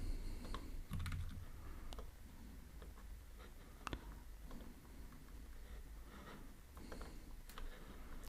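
Steady typing on a computer keyboard, a continuous patter of quiet key clicks with a few louder strokes, close and alone with no talking.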